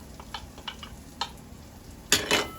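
Onions being stirred into melted butter and bacon in a pan, with a faint sizzle under scattered light utensil scrapes and a couple of louder stirring scuffs near the end; no talking.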